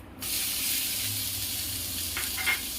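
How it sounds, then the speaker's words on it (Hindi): Onions drop into hot oil with cumin and asafoetida in an Indian pan and burst into a loud, close, steady sizzle and hiss that continues without pause, with a faint stir or scrape near the end. "दोस्तों जीरा और हींग अच्छी तरह भून चुका है, इसमें मैं अब प्याज डाल दूंगी"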